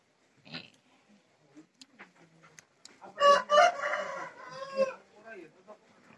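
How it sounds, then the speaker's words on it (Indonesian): Chickens at a livestock farm that also keeps Batur sheep: a rooster crows loudly a couple of times, with clucking and scattered animal calls between quieter gaps and faint background activity. "Nah, ini ada suara kambing, suara ayam."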